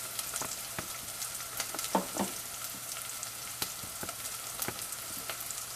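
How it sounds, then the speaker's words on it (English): Onions frying and softening in a pan, a soft steady sizzle with scattered small crackles and occasional faint clinks, no talking, while a chayote vegetarian dish is prepared. "So while this onions is getting a little softer, getting cooked"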